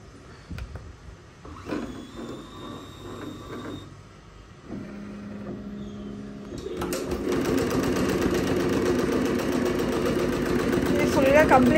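An embroidery machine starts stitching a design on net fabric. Soft intermittent mechanical whirs and clicks give way to a loud, steady, rapid chatter of needle strokes that runs to the end, and a person talks near the start.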